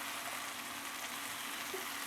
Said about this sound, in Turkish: Kabakla birlikte kavurmaya devam edeceğim.